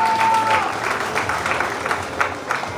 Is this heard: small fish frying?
no